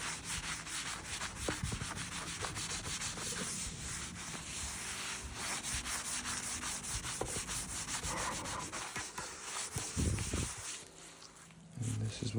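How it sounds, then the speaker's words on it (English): Cloth rubbing excess wood stain off a butcher block countertop, a steady, close scrubbing and swishing that continues with small pauses, with a voice talking at times. "wipe off the excess"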